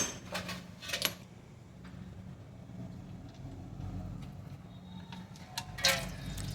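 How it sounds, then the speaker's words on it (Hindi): Engine oil draining from a Renault Duster during a major engine service, a steady liquid trickle under workshop noise, with a few sharp clanks near the start and end. "ये इंजन ऑयल निकल रहा है"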